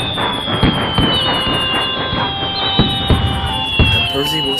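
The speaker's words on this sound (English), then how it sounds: "we can watch the fireworks just as well from here" Fireworks crack and thump in a steady series of sharp bursts over a dense, continuous roar, with a high whistling tone running throughout, loud and close.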